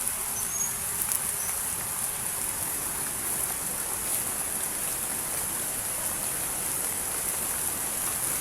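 Steady rain falls outdoors in a foggy area, a dense, even hiss and patter that persists throughout at a constant level, with a few faint insect-like chirps near the start and no voices.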